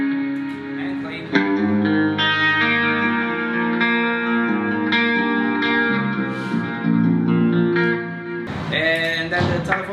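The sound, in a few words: electric guitar clean tone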